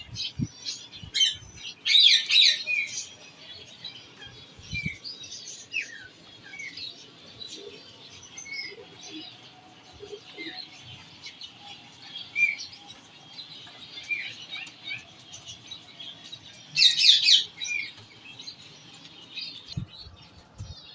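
A Bichhu Kamgar breeder pair of pigeons calls in short chirpy bursts over a quiet background, with two louder squawking outbursts standing out among softer scattered notes.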